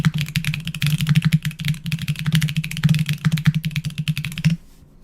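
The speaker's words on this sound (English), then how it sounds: "That felt like really strong typing there." Fast, forceful typing on a keyboard rattles out in dense rapid bursts for about four and a half seconds, close and loud, then stops abruptly, with no talk over it.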